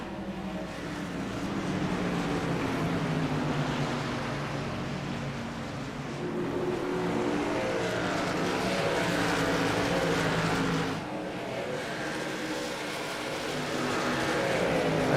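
Racing trucks in a video game league roar around the track, a continuous engine drone rising and falling in waves as the pack runs close together, with no talk over it.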